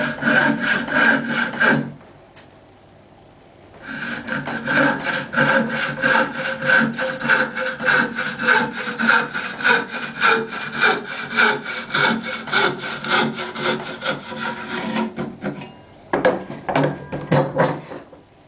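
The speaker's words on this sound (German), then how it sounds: "Die Säge ist ganz schön scharf und sägt flott" Steady back-and-forth strokes of a hand saw cutting through wood, close and loud, with a brief pause near the start and a short burst again at the end.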